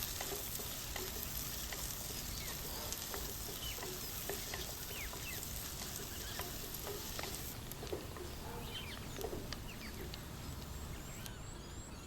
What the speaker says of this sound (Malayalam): അത് നല്ലപോലെ ഒന്ന് വഴറ്റിയെടുക്കണം